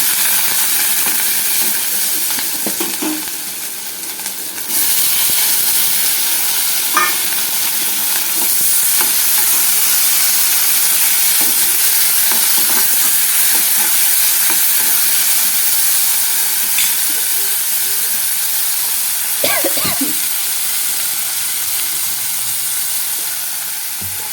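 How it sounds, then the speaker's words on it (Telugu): Tomatoes frying in oil in a pan for tomato bath upma: a steady, loud close sizzle and hiss throughout, with occasional stirring scrapes and no talk. "ఆయిల్లో ఫ్రై అయిన తర్వాత టమాటా పండు వేసుకోవాలి."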